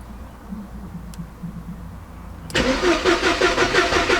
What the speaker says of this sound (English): the car should start